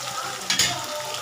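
Onions sautéing in a pan, a dense continuous sizzle close by, broken midway by a brief louder scrape of a spoon stirring.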